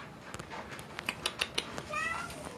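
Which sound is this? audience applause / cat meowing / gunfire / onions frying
cat meowing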